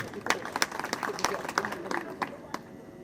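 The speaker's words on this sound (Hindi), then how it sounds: "इनके लिए भी जोरदार तालियां बजाएं।" Applause at a devotional bhajan gathering in Narnaul, heard as scattered, uneven clapping from a moderately distant crowd. Voices and background chatter run underneath.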